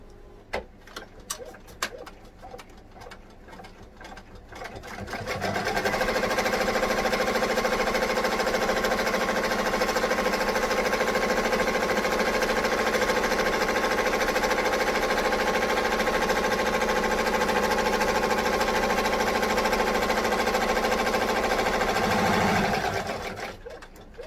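Sewing machine stitching a fabric scoop bag, a loud, even, continuous whir that starts after a few seconds of quiet handling noises and runs without pause for about eighteen seconds before stopping.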